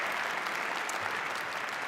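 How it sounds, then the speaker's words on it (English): A church congregation at a Martin Luther King Jr. birthday tribute and celebration applauds in a steady, even wash of clapping. The sound is brief and moderately distant. "Let's give you all a round of applause for coming here today."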